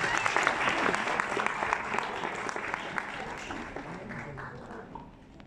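A concert audience breaks into loud, dense applause for a flute master's accompanying musicians, the clapping close and full at first, then gradually thinning and fading, with a voice speaking over it.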